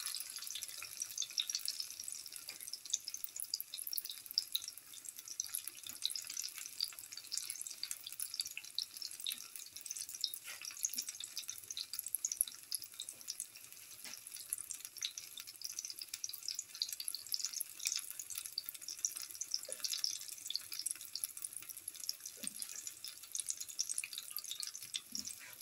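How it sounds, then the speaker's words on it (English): Potato chickpea fritters frying slowly in a pan with black pepper, a faint steady hiss and sizzle with scattered small pops running throughout, no talk. "Turn it over. Let it fry. Slowly."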